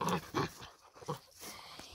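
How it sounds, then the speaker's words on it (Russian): Labrador dogs playing close by, a quick run of short yips, snorts and soft growly bursts with brief pauses between them. "Вот как играют моя собака, и собака"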